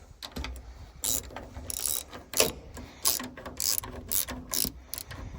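A bolt is ratcheted into a guard on a MacDon D65D combine header, giving a series of quick, close mechanical clicking bursts in an irregular rhythm, with quiet pauses between them.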